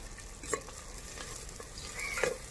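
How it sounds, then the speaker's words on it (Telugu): Chicken and onions frying in a pan over a wood-fire stove, a soft steady sizzle with a couple of sharper stirring clinks, fairly quiet and with no talking. "కొంచెం ఫ్రై చేసుకుందాం"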